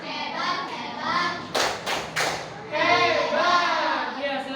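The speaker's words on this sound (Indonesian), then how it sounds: "Tepuk hebat." A classroom does a 'tepuk hebat' clap cheer: three loud, sharp claps land in quick succession between stretches of children's voices chanting together nearby.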